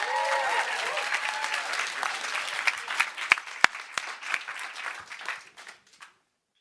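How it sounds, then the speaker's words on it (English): A coding bootcamp demo day audience claps for app presenters heading onto the stage, a full burst of applause with a few sharp individual claps standing out near the end before it fades quickly to silence. "Big round of applause for them"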